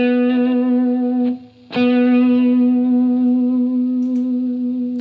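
A PRS Private Stock 8-string electric guitar through a mild Marshall-style distorted tone sounds a held chord, briefly cut, then struck again and sustained with strong resonance.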